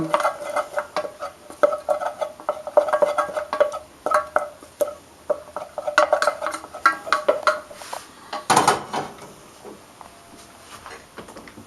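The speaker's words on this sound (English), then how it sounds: "I like to add just a touch of butter to it. Just mix that up good." A spoon scrapes and clinks in a pot as butter is stirred into freshly cooked rice, rhythmic close knocks and scraping strokes repeating for several seconds with a louder clatter near the end, no talking.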